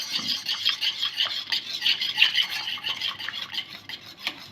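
A spoon stirs the misti doi mixture in a bowl, giving steady, close scraping and clinking strokes in an irregular rhythm, with no voices.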